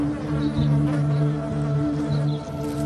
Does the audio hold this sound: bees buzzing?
yes